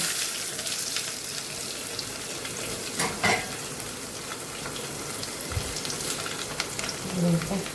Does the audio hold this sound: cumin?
yes